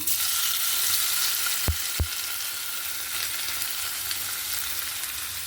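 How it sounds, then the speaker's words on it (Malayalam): Loud, continuous sizzle of anchovies frying in hot oil, with two brief knocks early on and no voices. "എണ്ണ നല്ല ചൂടായി ഞാനിതിലേക്ക് നമ്മുടെ നത്തോലിടുവാണ്"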